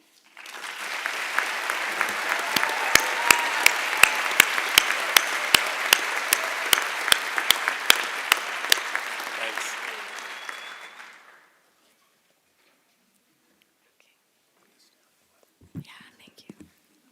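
A commencement crowd breaks into sustained applause, a dense wash of clapping with distinct sharp claps standing out. It holds steady for about eleven seconds, then stops abruptly into silence, followed by a brief faint rustle near the end.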